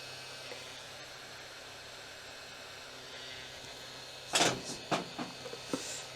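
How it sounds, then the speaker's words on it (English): A heat gun blowing a soft, steady hiss while shrinking heat shrink tubing on Harley 48 wiring, quiet and continuous, followed near the end by a few brief handling clatters. "I'm going to carry on doing the heat shrink very carefully"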